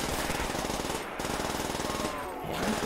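A PP-90 Bison submachine gun fires in Call of Duty World at War custom zombies, rapid sustained automatic bursts with two brief pauses, loud and close.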